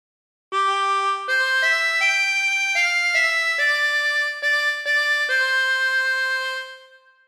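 Harmonica playing a phrase of Waltzing Matilda, a sequence of clear sustained blown and drawn notes with short breaks between them, played alone and close, the last note fading out.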